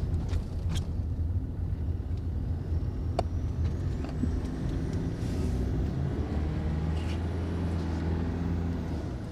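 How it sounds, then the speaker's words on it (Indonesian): Steady tyre roar and road rumble from a Toyota Innova Reborn with added sound deadening, driving over a rough road at about 60 km/h, heard from inside the cabin with no talking. "Maknyus banget suara bannya, benar-benar berkurang banget."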